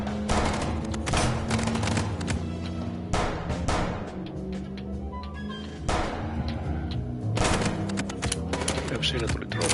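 Gunfire in the video game Chicken Police, loud repeated bursts of shots in clusters with a driving rhythm, close and dense, mixed with background game sound and some voices.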